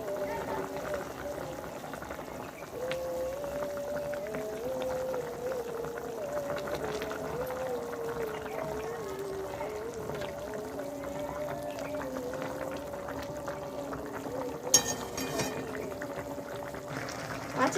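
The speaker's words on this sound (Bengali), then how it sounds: "এবার আমি একে একে দিয়ে দেবো ভেজে রাখা মাছগুলো।" Fried fish slipped one by one into a simmering Bengali fish curry with potatoes in water, a steady low bubbling and sizzling throughout, with someone talking over it.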